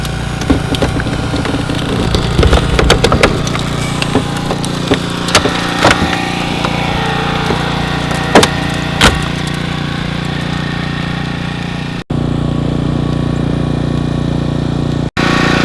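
A hydraulic rescue spreader forcing open a car during an extrication training exercise, heard as a loud continuous engine-driven power unit drone with cracking and popping of metal, cutting out briefly near the end.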